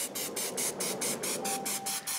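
Short rapid bursts of an oil spray mist over won tons laid out on a tray before air frying, about ten quick hissing pulses in a steady rhythm, faint and close.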